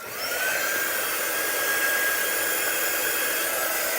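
Steady, loud blowing whir of a hair dryer heating heat transfer vinyl, switching on at the start and then holding a constant airy roar with a faint high whine.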